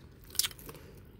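A few crisp crunching bites of fried flounder, a sharp burst of crackly chewing followed by softer crunches, close up and fairly quiet.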